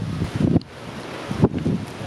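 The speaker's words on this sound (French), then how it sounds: "Alors, il y a pas mal de vent là-haut." Gusty wind buffeting the microphone on an exposed hilltop near a castle, rough low rumbling bursts that swell and drop, with a brief lull in the middle, no voices.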